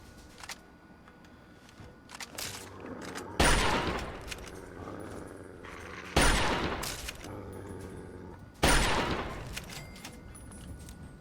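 Lever action rifle fire in Fallout 3 video game: three loud, booming single shots spaced a few seconds apart, each with a decaying tail, amid quieter clicks of handling between them.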